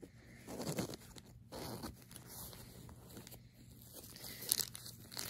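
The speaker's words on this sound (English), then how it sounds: "little zip pocket" Zipper on a small pocket of a crossbody backpack being opened, quiet close scraping zip strokes with light rustling and crinkling of contents, faint overall.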